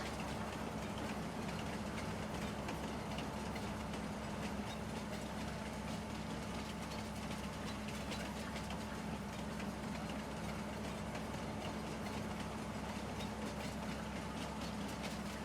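A train runs along a rail line in the Farming Simulator 19 video game, producing a continuous, loud engine drone and rolling rumble. The sound holds steady throughout, with no talking.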